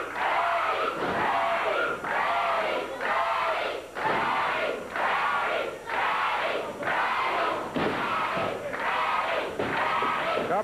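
A 1989 Memphis wrestling crowd chants in a loud, rhythmic call repeated about every second, with a cheer in each beat and brief pauses between them.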